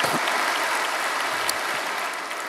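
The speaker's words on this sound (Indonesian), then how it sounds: "Berikan tepuk tangan kita untuk Tuhan kita." A church congregation applauds in a dense, steady wash of clapping that continues evenly throughout and eases slightly at the end.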